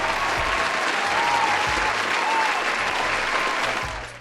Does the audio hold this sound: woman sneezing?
no